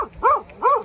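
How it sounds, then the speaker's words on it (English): A dog barks twice at Lake Tekapo, New Zealand: two clear, mid-pitched barks about half a second apart, heard outdoors at moderate distance. "there's a dog barking here"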